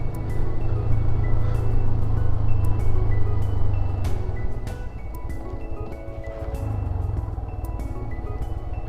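A Hero XPulse motorcycle turns on a rough off-road mountain track, its engine droning steadily at close range, dipping briefly mid-turn before picking back up, with no talk over it.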